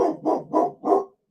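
A dog barks four times in a quick even series, each a full-bodied woof, close and clear with no voices, then falls silent.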